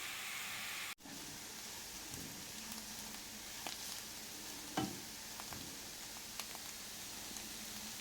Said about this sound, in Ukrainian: Додаємо моркву і смажимо до пом'якшення.